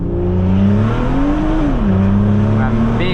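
Engine of a Stage 2 tuned 2018 BMW 440i accelerating, a loud steady droning pull with the pitch climbing then dropping at a gear change, heard from inside the car with people talking.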